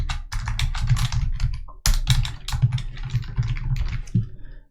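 Rapid clattering keystrokes on a computer keyboard, typed in close bursts with a brief pause midway, crisp and alone without speech.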